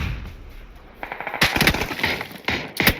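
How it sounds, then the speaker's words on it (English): Gunfire in the video game PUBG during a competitive esports match: short bursts of rapid shots begin quietly, then grow louder and denser, with a final close burst at the end. "Try to take some shots over here, but he's getting shot from range."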